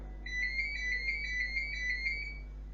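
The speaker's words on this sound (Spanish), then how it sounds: "Saben quién llama por teléfono, ¿no?" A telephone rings once in a room, a quiet, steady electronic trill lasting about two seconds against a low background hum.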